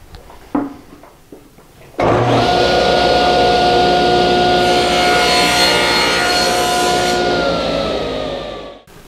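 A table saw starts with a loud whine and cuts through wood for several seconds in a steady roar, then runs down as the blade winds toward stopping; a few knocks come before it starts.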